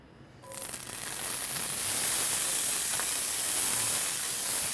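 Garbanzo beans hit a hot pan over gas burners, bursting into a loud, steady sizzling hiss that swells quickly and then holds evenly, with no talking.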